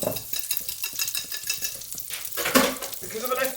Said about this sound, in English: I can see the butter's already sizzling